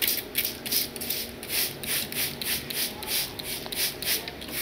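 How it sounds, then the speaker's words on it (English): A hand spray bottle misting newly sown herb seeds such as peppermint, giving repeated short hissing spritzes in a steady rhythm, close by with faint background rustle. "Now we gonna spray."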